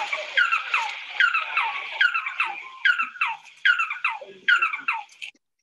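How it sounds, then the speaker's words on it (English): Resplendent quetzal calling, a series of clear, downward-sliding chirps repeated in quick rhythmic bursts, close and alone against a silent background. "this is actually a recording of the true chirp of the Quetzal bird."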